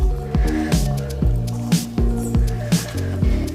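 Wet squishing pulses come as hands knead a flattened rice cutlet mixture with chopped onion, pressing and squeezing in a steady rhythm of close, soft squelches.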